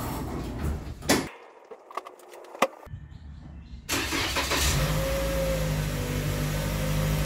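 A car engine cranks and starts after a few door and handling clunks, then settles into a steady running rumble as the vehicle pulls away, fairly close and loud with no talk.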